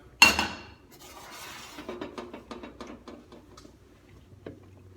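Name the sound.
sauteing zucchini in a pan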